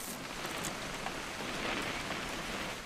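Steady rain in a video game patters down evenly, a soft continuous hiss of drops on surfaces with no voices or other sounds.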